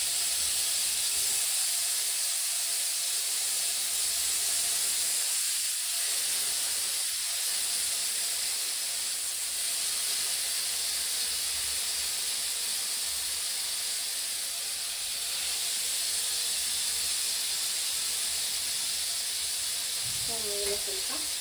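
Food frying in a pan for a quick starter dish, a steady broadband sizzle and hiss running throughout, fairly loud and even, with a few faint voice fragments underneath.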